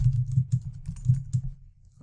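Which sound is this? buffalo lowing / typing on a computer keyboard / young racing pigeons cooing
typing on a computer keyboard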